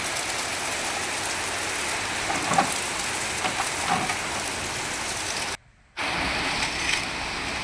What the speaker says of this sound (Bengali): আজকে বাইরে প্রচণ্ড পরিমাণে বৃষ্টি হচ্ছে